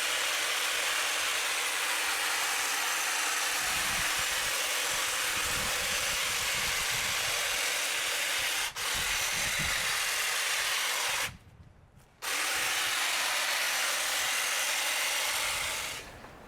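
A Snap Fresh 20 volt cordless hedge trimmer cutting along the edge of shrubs, a loud continuous whirring buzz held throughout, broken by a brief dropout near the end before the motor resumes.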